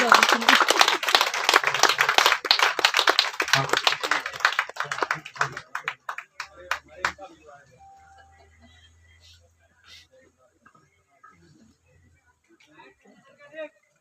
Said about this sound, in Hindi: अब देखो कैसे तालियां बज रही हैं